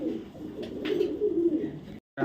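A male tiger racer pigeon coos in a low, steady murmur that runs on through most of the stretch, close by, with a brief gap near the end.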